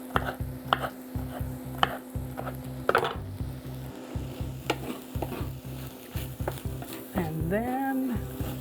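Rice and pepper in a stir fry sizzle steadily in a hot pan while a utensil scrapes and stirs in repeated strokes close by, with no talking.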